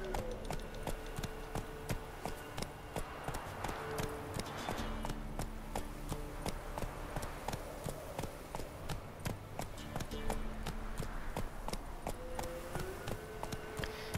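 A horse gallops in The Witcher 3, its hooves drumming a fast, steady clip-clop rhythm up close for the whole stretch over a soft game music bed.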